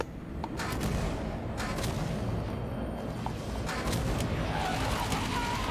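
A Banshee's fuel rod cannon fires in Halo 5: Guardians, a dense run of loud, overlapping blasts and booms that continues steadily through the whole stretch of combat noise.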